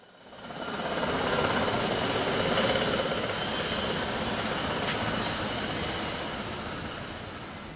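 A Union Pacific track maintenance truck rumbles past on the rails, a broad steady roar with faint metallic squeal that swells and then slowly fades.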